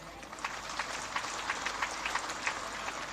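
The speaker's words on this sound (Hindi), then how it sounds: "ये बेटियों के लिए, बहनों के लिए जोरदार ताली हो जाए" Crowd applause with steady clapping, fairly distant and moderate in volume, continuing throughout.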